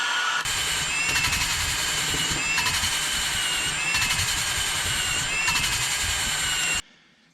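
Engine valve being lapped by hand with grinding compound: a steady, loud, rough grinding and whirring that runs without a break for nearly seven seconds, rising and falling slightly in regular waves, then stopping abruptly, with no speech.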